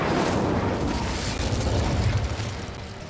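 In Hogwarts Legacy, an Incendio fire spell bursts with a loud, roaring whoosh of flame and crackling rumble that holds steady and then fades slightly, with no talk.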